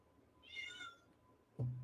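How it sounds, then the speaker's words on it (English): A cat meows once, a short and fairly quiet drawn-out call, then a low thud at the very end. "Cat."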